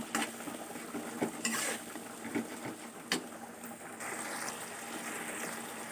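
Ginger and tomato being stirred in a hot pan for a pabda fish curry: steady scraping and clinking of a spatula against the metal with a soft sizzle underneath, several sharper knocks along the way, close and fairly loud.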